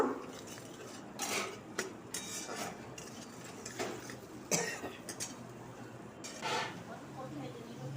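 Spices, sugar and salt being stir-fried in a pan for a vegetarian fig and potato curry, with repeated scrapes and clinks of a spatula against the pan under a faint background hiss.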